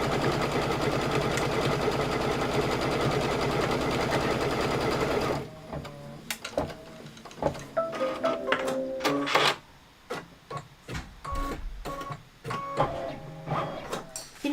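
A quilting embroidery machine stitches a trim placement line, first as a loud steady buzzing hum, then stopping and breaking into short irregular bursts of mechanical whirring and clicking.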